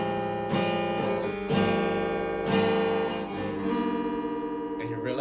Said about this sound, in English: the guitar is not in tune